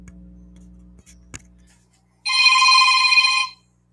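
A phone rings with an incoming call: one sustained trilling electronic ring burst, loud and close, after a few faint clicks and a low hum.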